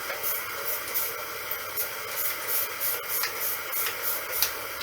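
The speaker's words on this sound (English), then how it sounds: "Let's just spray it with water." A spray bottle mists water onto balsa wood in a continuous, fairly loud hiss with faint rhythmic pulses from repeated trigger squeezes; no voices.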